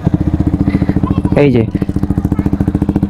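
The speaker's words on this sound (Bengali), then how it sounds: "প্রথমে এক্সস্টের একটু সাউন্ডটা আপনাদেরকে আমি শোনাই।" A motorcycle sits in neutral with its exhaust idling in a steady, even run of close, throbbing pulses that carry on throughout, while someone speaks briefly over it.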